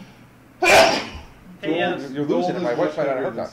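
One loud, sharp sneeze bursts out close by, and a person starts talking right after it.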